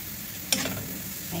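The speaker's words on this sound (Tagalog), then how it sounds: "kailangan igisa-gisa nyo konti yung hipon" Blanched, half-cooked shrimp and vegetables are stirred and sautéed in a hot pan for vegetable spring rolls, with a steady, close sizzle and one sharp scrape of the utensil partway through.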